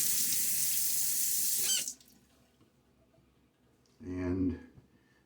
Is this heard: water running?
yes